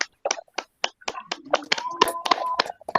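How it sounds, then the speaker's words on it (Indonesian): Sixth-grade pupils in a classroom clap their hands in a rhythmic pattern: sharp separate claps at first, then quicker bursts with a voice and a sustained tone mixed in. "Kita semua tepuk tangan dulu"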